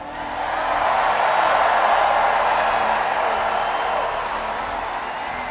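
A large rally crowd cheers in a steady, loud roar that swells and then slowly fades, with a faint rhythmic patter of clapping running through it.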